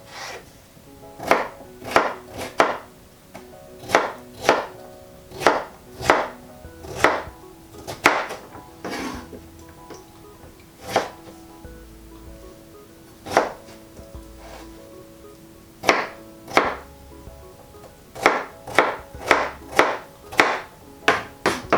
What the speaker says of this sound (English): So I'll quarter it first and then slice it.